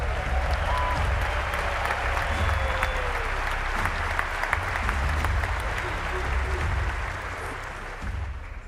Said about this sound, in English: Please welcome a Michigan alum and a Michigan fan, both of whom play professional sports, Jona